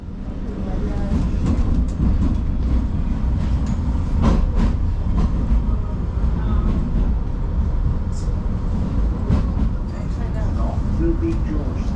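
A London tram on its way to Wimbledon, rumbling along its rails with a steady low roar, occasional clicks and squeals, and a voice speaking over it.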